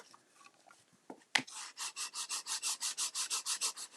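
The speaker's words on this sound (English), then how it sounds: "give that some burnishing." A stamped paper note card being burnished: after a sharp tap, a fast series of about fifteen even, close rubbing strokes, each a soft raspy swish in steady rhythm.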